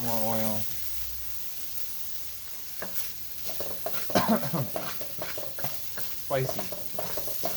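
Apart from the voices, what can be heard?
frying ginger and dried pepper in avocado oil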